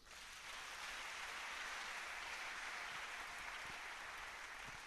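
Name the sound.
congregation applauding in church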